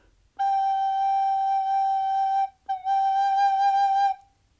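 A soft, pure recorder tone played with light breath is held steadily, briefly breaks off, then resumes on the same note before stopping; clear and close.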